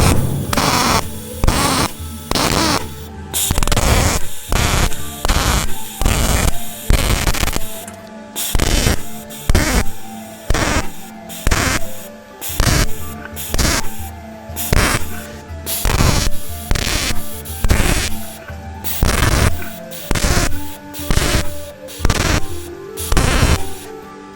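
An electric welder plug welds a metal seam, producing loud bursts of crackling, buzzing arc noise in a steady on-off rhythm with short gaps between welds, close up and alone.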